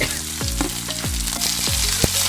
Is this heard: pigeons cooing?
no